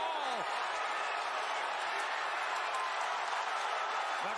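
A boxing arena crowd at the Jake Paul vs Tyrone Woodley fight gives a dense, continuous roar of cheering and applause, loud and unbroken throughout, with a commentator's voice faintly underneath.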